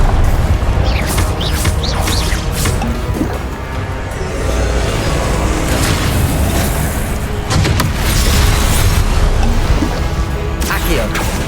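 Fire spells burst in a Hogwarts Legacy battle, with constant layered booms, crashes and magical whooshes piling up loudly and without pause over the whole stretch of combat.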